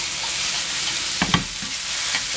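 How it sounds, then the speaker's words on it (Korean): Salted potato being stir-fried in a pan over medium heat gives a steady close sizzle, with a few brief scraping stirs about halfway through. "한 중불 정도 불에서 계속 이렇게 볶아줍니다."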